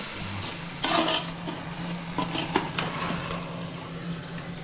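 A spoon stirs Ambur-style chicken biryani in a pot, giving a few scattered scrapes and metallic clanks over a low, steady kitchen hum.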